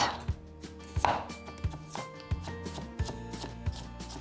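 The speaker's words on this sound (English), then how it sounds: "Thinly julienne the carrot." A knife julienning carrot on a cutting board makes crisp, evenly spaced chops roughly every two-thirds of a second, close and clear over soft background music.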